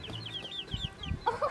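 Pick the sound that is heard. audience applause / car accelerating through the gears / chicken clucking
chicken clucking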